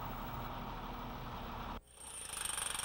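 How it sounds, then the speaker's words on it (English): Jackhammers breaking up interior basement walls and fireplaces of a historic building, a dense continuous hammering roar that cuts off abruptly, then a quieter rhythmic pulsing of machinery. "jackhammers are used to demolish interior basement walls and fireplaces"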